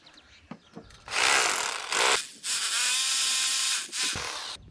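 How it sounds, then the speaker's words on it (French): A hammer drill bores a hole for fixing exterior wall insulation, coming in several loud close bursts separated by brief pauses. "maintenant avec le perforateur"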